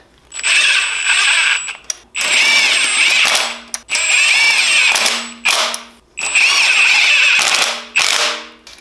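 Tightening water pump housing bolts on a Honda K24 engine with a power tool, heard as four loud whirring bursts about two seconds each with short pauses between them, close by.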